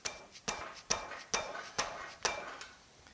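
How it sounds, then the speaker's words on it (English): Five evenly spaced sharp knocks from a dead blow hammer striking a rear disc brake part on a 1965 Chevelle Malibu SS, each a short dull strike on metal, close and fairly loud, with no talking. "Couple of smacks with a dead blow hammer."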